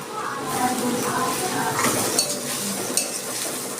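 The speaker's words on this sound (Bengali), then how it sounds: "আমার পেঁয়াজ রসুন আদা ভাজা হয়ে গেছে" Chopped onion, garlic, ginger and chilli fry in a wok while being stirred, making a steady, loud sizzle with scraping and occasional clinks of the utensil against the pan, with no voices.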